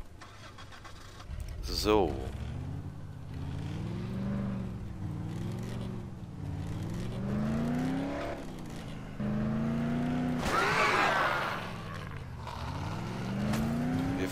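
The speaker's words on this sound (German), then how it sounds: "Wir fahren jetzt mal eben los." A car engine starts in the zombie video game Dead Island, then revs and drives, pitch rising and falling with gear changes under steady play; a person talks and hums over the engine throughout.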